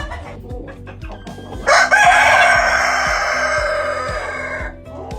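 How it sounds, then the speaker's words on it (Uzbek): A rooster crows loudly and close by in one long call, with clucking and low rhythmic background noise before and after. "Bu tovuqimizni, xo'roz edi bu aytgancha"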